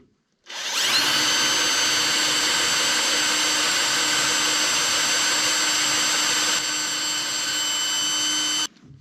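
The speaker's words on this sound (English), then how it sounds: "Made in China drill bit," A power drill with a Chinese-made bit runs continuously at close range while working on a Yanmar mini excavator, a loud steady whine that starts abruptly, holds for about eight seconds, and cuts off sharply.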